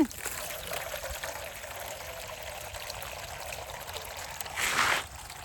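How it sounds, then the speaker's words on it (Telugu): Fresh coriander and mint get rinsed under running bore water on a farm, a steady close trickle and splash with a louder gush of pouring near the end. "బోర్ నీళ్ళు ఎంత కమ్మగా ఉంటాయి తాగుతాయి మామూలు కమ్మగా ఉండవు మన ఫామ్దే ఏముండదు కానీ కడగాలి కదా కొద్దిసేపు కడిగి ఆరబెట్టుకుంటే"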